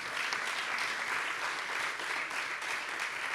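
A conference audience in a hall warmly applauds the invited panel after a discussion on transport, climate and electrification, the dense clapping steady and sustained throughout with no voices over it.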